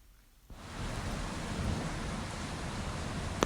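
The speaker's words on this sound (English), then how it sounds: "oh rain, the rain suddenly began to pour again" Steady heavy rain pours down in a video game scene after a brief quiet moment, a dense, even hiss that starts suddenly and stays loud throughout.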